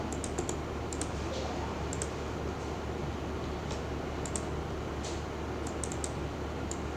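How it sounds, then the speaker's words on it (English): Keys tapped on a computer keyboard while entering data into an Excel spreadsheet, producing faint, sparse clicks in small bursts over a steady background hum. "So type the data"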